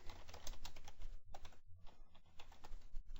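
Keys clatter on a computer keyboard in quick, quiet bursts with brief pauses, ending on a single keystroke like an enter press, close and faint.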